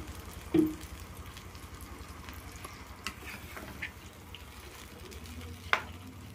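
Water poured into a pan of sizzling meat curry at home, giving a steady low frying hiss with one sharp splash-burst near the start and another brief crackle toward the end, no talking.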